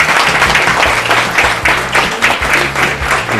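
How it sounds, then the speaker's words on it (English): Steady, dense applause from an audience at a school board meeting, loud and sustained with a few faint voices mixed into the clapping. "Let's give all these young people another big round of applause."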